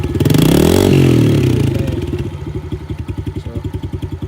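A Yamaha Raptor 700 quad engine running close by, a loud rev that swells and fades, then settles into a fast, steady, pulsing idle thump.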